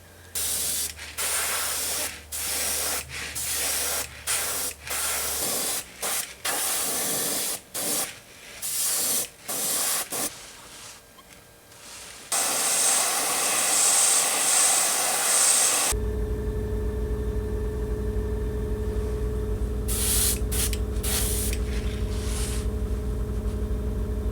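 Opaque black paint is sprayed heavily onto the top of a handmade topwater crawler fishing lure. The airbrush hisses in a rapid run of short bursts, then gives a few longer sustained blasts over a steady compressor-like drone.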